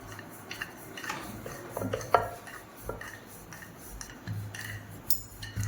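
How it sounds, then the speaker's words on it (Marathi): Paratha dough being rolled out with a rolling pin on a kitchen surface, with soft rubbing and light knocking from the pin and utensils, close and fairly quiet, heard alone without talk. "आता आपण पराठा लाटून घेऊया."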